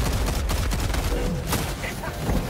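Rapid gunfire and explosions fill a Helldivers 2 battle against bots and bugs, dense loud bursts layered over a constant combat roar.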